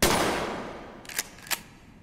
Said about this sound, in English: Use the shotgun right now!